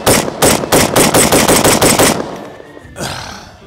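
An unsuppressed 5.56 M16 rifle fires a rapid string of about nine loud, sharp shots in steady rhythm on an outdoor range, followed by a pause and a fainter echoing report.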